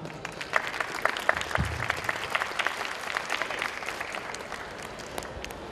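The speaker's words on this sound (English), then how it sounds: "let us give a round of applause to Mr. SKTAN." An audience at a leadership lecture at UTAR Kampar claps steadily in a dense, even patter of applause that carries on without letting up, fading slightly toward the end.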